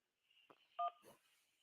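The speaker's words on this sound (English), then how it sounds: "Oh, we got a phone call, guys." A short burst of telephone keypad dialing tones at a live stream's incoming call, a couple of quick beeps in a brief sequence, fairly quiet and with no one talking over them.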